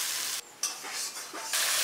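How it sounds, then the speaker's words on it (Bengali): Spice paste stirred into fried tomato in a hot pan for a Bengali taro-root curry, giving a loud, close, steady sizzle broken by short pauses and scraping stirs, with no talking. "মশলাটাকে একটু ভালো করে কষিয়ে নেব।"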